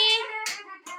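Children clapping their hands in a small classroom group, a few quick bursts of claps separated by short pauses, with a voice sounding in between.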